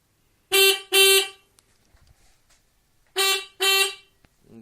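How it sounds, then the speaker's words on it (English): Original stock horns on a Triumph Sprint ST 1050 motorcycle, dangling unmounted, sound two short loud honks, a pause, then two more, each blast clean and close with quiet gaps between. "that's the original horns"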